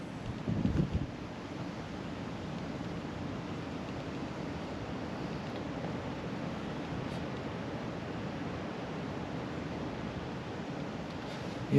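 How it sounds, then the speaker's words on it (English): Steady wind blusters across the microphone outdoors at Hoober Stand, a continuous low rushing roar with a short gust near the start and no voices. "I'm blaming the wind for that. It is quite windy."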